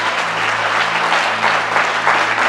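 Sustained applause and clapping from a church congregation in Cameroon, dense and steady throughout, with a faint crowd murmur beneath it.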